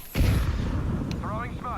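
A grenade blasts in a first-person video game with a sudden loud, deep boom, followed by a rumbling tail while a voice calls out briefly afterward.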